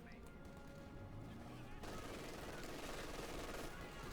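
An MG42 machine gun fires in a Company of Heroes 2 battle, heard as a continuous rattling burst mixed with other battle noise and a talking voice, growing denser partway through.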